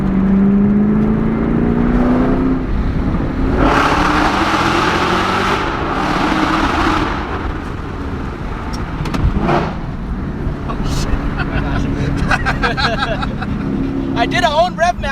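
A Lamborghini Huracan and a Chevy Camaro ZL1 1LE rev with the limiter off, loud swelling engine roars rising and falling in pitch, then sharper blips and revs near the end, with people talking over the engines.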